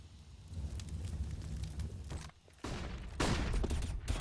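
A Molotov cocktail fire and gunfire in the video game Counter-Strike: Global Offensive during a Cache map match, with a dense crackling fire roar, a short dip, then loud sustained bursts of shots.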